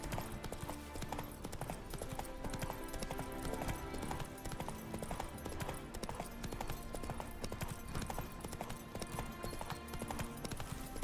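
Steady galloping hooves of the horse Roach in The Witcher 3: Wild Hunt, a fast continuous clip-clop rhythm under dense game music, loud and close throughout.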